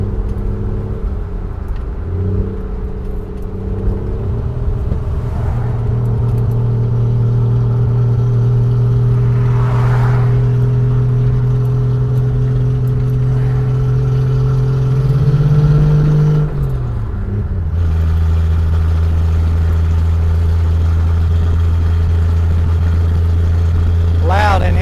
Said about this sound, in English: Loud in here with that old exhaust, basically just cut off right below my feet.